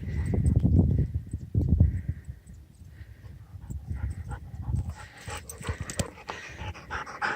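Pearl the dog moves close by on a mountain hike, with rhythmic panting and scuffling steps in the opening seconds, then quieter rustling and brushing over the trail.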